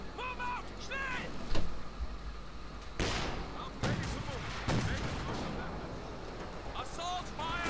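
Gunfire and artillery in the video game Company of Heroes 2: sharp rifle shots and heavy booming blasts at mixed distances, with shouted voices between the bursts.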